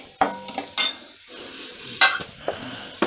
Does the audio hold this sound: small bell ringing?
no